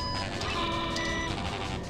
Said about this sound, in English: Ezmerelda checks out okay, but what's that alarm, Professor?